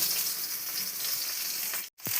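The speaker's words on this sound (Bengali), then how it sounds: "মাছের মাথা ভেজে নিয়েছি" Fish heads fry in a pan of hot oil for a pumpkin greens dish, giving a continuous close sizzle that drops out for a moment near the end before crackling again.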